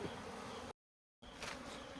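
A honey bee colony nesting in the hollow of a jackfruit tree drones with a steady, close buzz that cuts out completely for a moment midway, then resumes at the same level.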